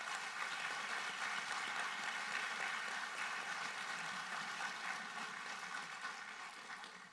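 Distant, even applause from the audience at a recruit class graduation and pinning ceremony, a soft steady wash of clapping that tapers slightly toward the end.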